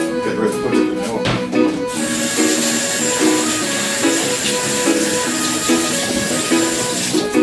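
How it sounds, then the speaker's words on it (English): Tap water runs steadily in a home kitchen while hands are washed during turkey preparation, a continuous broad hiss lasting throughout with faint clatter and rubbing beneath it. "Now I'm washing my hands"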